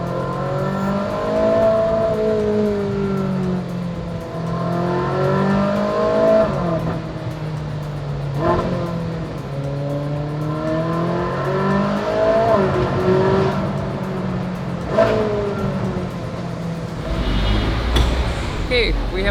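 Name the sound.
naturally aspirated V8 sports car engine revving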